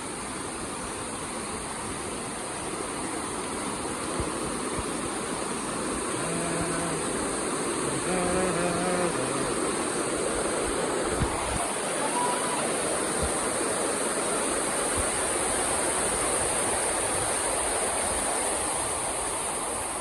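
Rushing water at the Barki waterfall in Kolhapur roars continuously and loudly for the full stretch, a dense wash of spray with faint tonal murmurs briefly surfacing midway.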